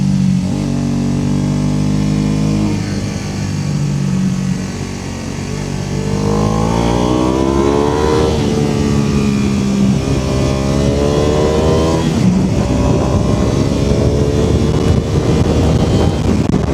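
Classic motorcycle engine revving through a downshift, a loud close roar that rises and falls in pitch as the revs climb and drop, with wind buffeting throughout.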